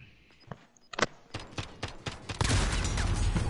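Slug shotgun blasts in Call of Duty, a few separate booming shots followed by a dense burst of rapid in-game gunfire, loud and close.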